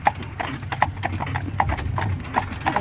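Horse hooves clip-clop in a steady, even rhythm as an Amish buggy is pulled along, likely by miniature ponies, fairly close and alone over a low rumble of wheels.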